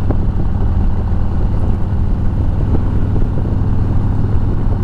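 A 2020 Police Electra Glide motorcycle with a 4-inch tab exhaust and medium quiet baffles, its engine a steady low rumble heard from behind while riding, continuous and moderately loud with no talk.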